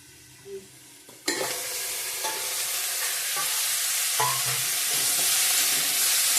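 Potatoes, soybean chunks and sweet pumpkin frying in a pan: after a quiet start, a sudden loud sizzle bursts in and holds steady, broken by a few scraping stirs of a utensil, with no speech.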